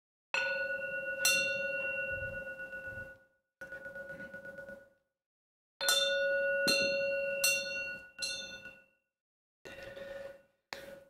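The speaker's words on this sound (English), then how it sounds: "I'll ring the bell first." A meditation bell is struck several times in succession, each clear metallic strike ringing with a long sustained tone before fading, some strikes cut short, in a quiet room.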